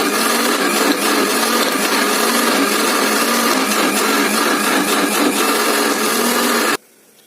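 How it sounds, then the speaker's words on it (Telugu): A mixer grinder blends juice with cardamom powder, a loud, steady whirring roar that holds for about seven seconds and then cuts off abruptly. "మిక్సీ పట్టేసుకుందాం ఇప్పుడు."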